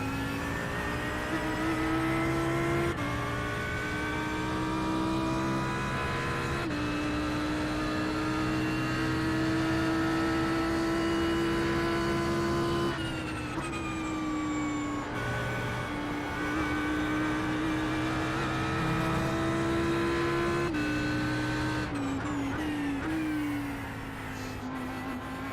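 Audi GT3 race car in a racing video game at Sebring, its engine droning loud and steady throughout with rising revs and abrupt gear-shift drops, no talk over it.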